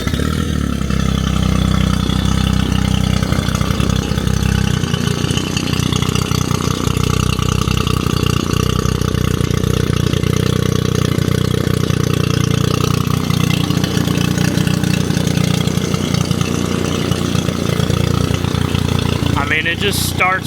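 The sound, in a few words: duck boat outboard motor starting and idling on muffs out of water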